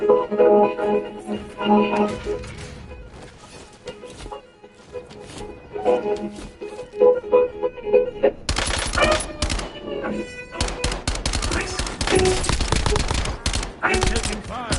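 Video game gunfire comes in sharp bursts, a few scattered shots early, then a dense, loud run of rapid automatic fire and single cracks through the second half over background game sound.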